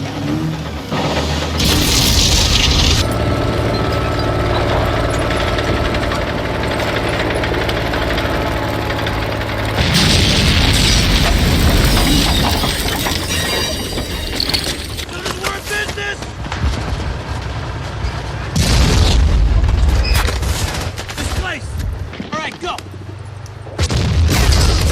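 WW2-era small arms gunfire and explosions from a war movie, with loud bursts and booming blasts in several dense stretches, mixed with rumbling engine-like noise and a voice in the background.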